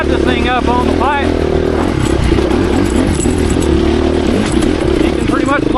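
A 2024 KTM 350 EXC-F dirt bike engine barks and revs loudly while riding, with rapid rises and falls in pitch and some clatter.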